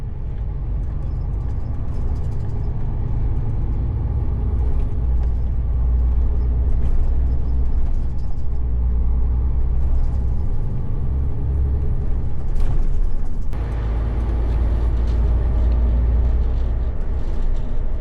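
A truck engine labours steadily uphill with an empty trailer. The low rumble is loud and continuous, with a faint hiss and a slight dip in tone partway through, and no talking.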